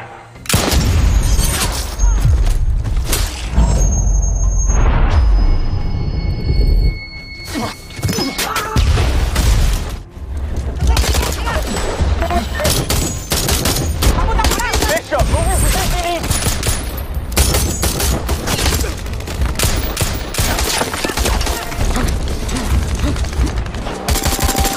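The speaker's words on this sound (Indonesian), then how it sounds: "Baku tembak ini membuat musuh terus berdatangan dan menembakkan RPG" A sniper-film firefight rages with dense machine-gun bursts, single gunshots and heavy booming explosions, loud and nearly continuous, with shouted voices mixed into the chaos.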